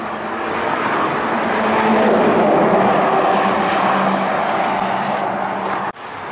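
A steady, loud roar of heavy motorway traffic rumbling overhead while passing beneath the road, a dense wash of engines and tire noise that dips briefly near the end.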